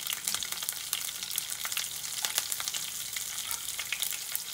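Curry leaves and chopped green chillies sizzle steadily in hot oil as the tempering for Gujarati khaman dhokla, a dense continuous crackle with sharper pops, close up and with no voices.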